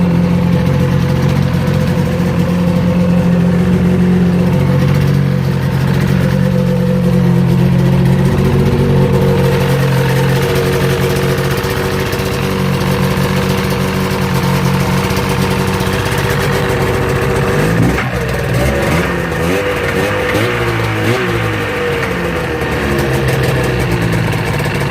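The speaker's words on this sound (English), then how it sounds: "So that's the stock exhaust." A Polaris Indy 600 snowmobile on its stock exhaust idles steadily and close by, a low throbbing engine drone that wavers slightly, then shifts briefly in pitch as the throttle changes near the end.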